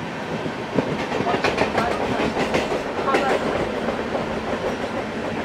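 A Barddhaman super local train running on the Chord Line toward Howrah, its wheels clattering steadily and loudly over the rails in a continuous rhythmic clickety-clack throughout.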